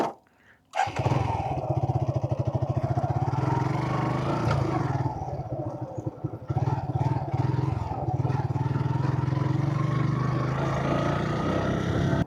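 A motorbike rides along a rural road in the haor area of Gazipur; after a brief hush its engine roars up close and keeps a loud, steady drone, with some rises and falls as it moves.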